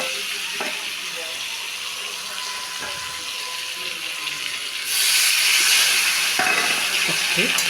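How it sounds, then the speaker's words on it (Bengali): Hot water poured into a pan of frying pointed gourd and potato curry sets off a steady hiss of steam and sizzling that swells louder partway through, with faint clinks of a utensil. "এবার এর মধ্যে একটু গরম জল দিয়ে দেবো"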